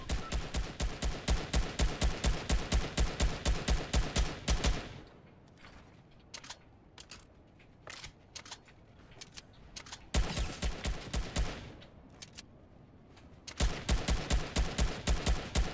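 Rapid automatic gunfire from a Fortnite match, loud bursts of evenly spaced shots at the start, in the middle and at the end, with scattered single shots and quieter gaps between the bursts.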